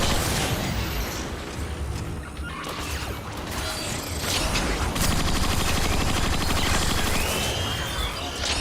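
Sniper rifle fire and other weapon shots in the sci-fi shooter game Transformers: Fall of Cybertron, sounding as bursts within a constant, dense mix of game effects and mechanical noise.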